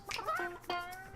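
Chickens cluck in the video game Burly Men at Sea, giving two short, bright clucking calls close by with a brief pause between them.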